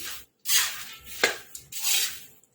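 A spoon working through spiced roasted sorghum puffs in a pan, scraping and rattling against the metal in several short bursts with brief pauses between them, close and alone.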